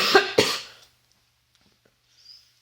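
Two quick, harsh coughs close up, one right after the other, followed by near silence.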